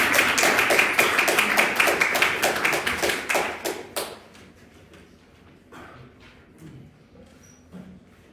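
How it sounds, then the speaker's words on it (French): A small audience at a French debate match gives a round of applause for a minister of ecological transition. Dense, sharp clapping carries for about four seconds, then breaks off abruptly into near quiet with a few stray claps. "un tonnerre d'applaudissements pour Karl, le ministre de la Transition écologique"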